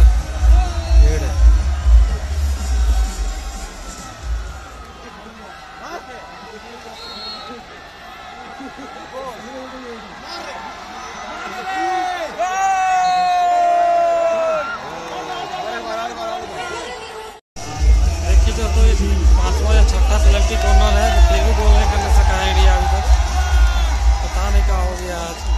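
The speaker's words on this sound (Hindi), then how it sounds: "देख सकते खचाखच भरा हुआ पूरा बिरसा स्टेडियम, चारों साइड एकदम कहीं पेड़ रखने का जगह नहीं है, इतना भीड़ है" A packed crowd fills Birsa stadium at an India versus Japan hockey match, a steady roar of chatter and cheering swelling and falling throughout, loudest near the start and end, with a brief cut partway through.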